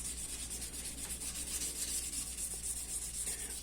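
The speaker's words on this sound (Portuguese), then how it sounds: "Aqui eu simplesmente vou lixar com uma lixa fina e óleo." Fine sandpaper with oil rubbing over a wooden violin chinrest, a quiet continuous scratchy back-and-forth sanding close by, steady throughout with no speech.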